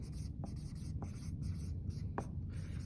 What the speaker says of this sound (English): So I'll write that up here